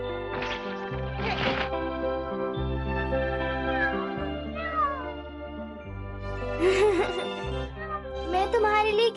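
A cartoon cat meows repeatedly in a clear, loud, whiny voice, the cries rising and falling over a sustained musical background.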